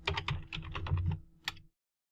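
Rapid typing on a computer keyboard, a quick run of close, crisp key clicks that stops abruptly, then one last keystroke before silence.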